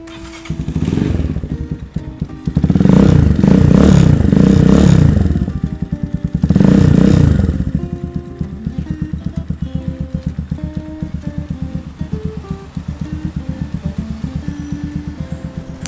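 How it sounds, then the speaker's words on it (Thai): A 2020 Stallion SM150 motorcycle engine idles with a rapid, steady putter, revs loudly twice, then settles back to a lumpy idle, close to the exhaust. "เสียงท่อไม่ดังมากนะครับ"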